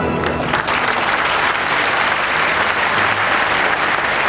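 Loud, dense applause fills a large hall as Miss Midi-Pyrénées is named fourth runner-up at the Miss France 1991 pageant, sustained and even throughout, with faint music underneath.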